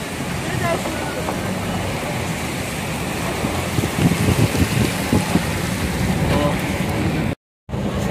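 Heavy wind and rain from Cyclone Tauktae roar in a continuous wash of noise on a May day in the Marine Lines area of Mumbai, with a brief dropout near the end.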